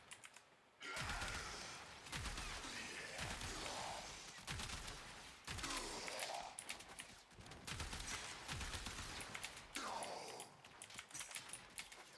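Acceltra Prime gunfire in Warframe: bursts of loud, rapid fire with explosive impacts, broken by short pauses, running from start to end with no voices.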